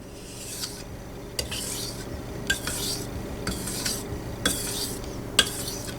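A kitchen knife is drawn across a 1000 grit Chroma whetstone in repeated gritty strokes, roughly one per second, each a close rasping scrape with faint metallic ticks.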